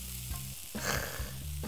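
Cooked rice frying with sesame oil in a hot frying pan, a dense close sizzle with a low rumbling hum beneath and faint stirring scrapes, steady and loud throughout.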